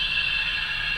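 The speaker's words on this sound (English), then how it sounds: "And you can hear the coal shoveling," Steady scraping and rattling of coal being shovelled on a model GWR steam locomotive's sound system, continuous and fairly close, with a constant mechanical hiss behind it.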